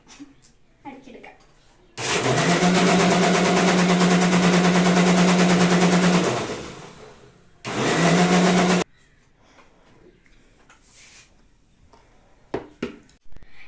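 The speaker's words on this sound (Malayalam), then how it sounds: "എല്ലാം കൂടെ ചേർത്ത് നമുക്കൊന്ന് മിക്സിയിലിട്ടൊന്ന്" A mixer grinder blends carrot and milk into a carrot shake, roaring loud and close for about four seconds, then running again in a shorter second burst, with faint voices in the quiet gaps.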